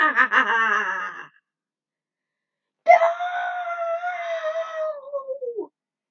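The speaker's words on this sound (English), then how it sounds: "She screamed, and tears burst in her eyes." A woman's anguished scream in an audio drama, one sharp wavering cry, then a pause and a second long, loud wail that slowly falls in pitch, with no talk over it.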